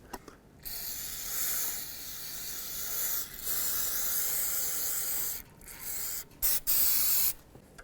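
Aerosol brake cleaner sprays in several long hissing bursts onto a rear brake caliper of a 2003-2007 Nissan Murano to wash off leaked fluid, with short pauses between sprays and no talking.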